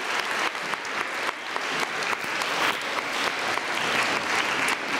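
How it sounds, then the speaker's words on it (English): Children and guests in a school elementary awards ceremony audience applaud parents and grandparents, with loud, steady crowd clapping sustained across the whole stretch in a large room. "give your parents and grandparents a round of applause for their hard work"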